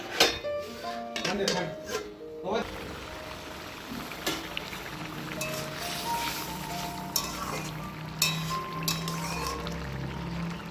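A lid clinks onto a cooking pot holding potatoes and elephant foot yam, with a few sharp metallic taps early on and a steady low kitchen background afterward.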